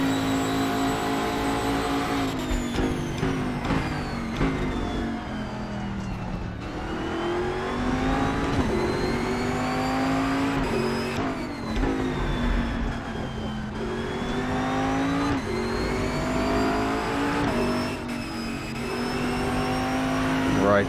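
Race car engine in the RaceRoom racing game, a DMD car in an LMP2/GT3 multiclass race at Road America, droning loud and continuous with rising and falling revs through gear changes, no voices over it.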